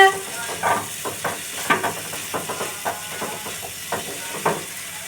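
Grated cauliflower is stirred into keema in a pan, with a series of close, irregular scraping and clacking strokes over a soft background sizzle.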